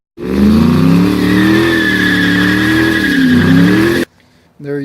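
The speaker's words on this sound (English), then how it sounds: "That really helped with wheel hop, which I'll insert a little clip of how bad the wheel hop is on a stock" A stock 2007 Ford Mustang GT with a 4.6-liter three-valve V8 and an aftermarket intake revs hard under acceleration, its loud, close engine note rising and wavering with wheel hop for about four seconds before cutting off.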